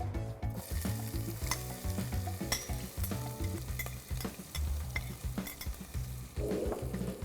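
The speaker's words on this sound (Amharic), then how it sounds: "ዘይቱን ትንሽ ሞቅ ማለቱን ካረጋገጥን በኋላ ግብአቶቻችን መጨመር እንጀምራለን የመጀመሪያ ሽንኩርት ጨምራለሁ" Onion added to hot oil for lentil soup fries with a bright sizzle, while rhythmic spoon strokes scrape and knock against the pot in quick succession, close and steady.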